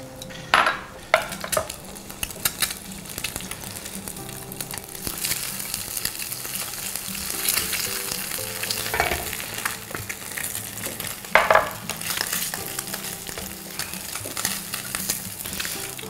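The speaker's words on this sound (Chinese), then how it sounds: "煎蛋的同时，顺便再把午餐肉给煎一煎" Egg and sliced luncheon meat fry in an oiled pan, a continuous soft sizzle broken by occasional spatula scrapes and clinks against the pan, close by with no talking.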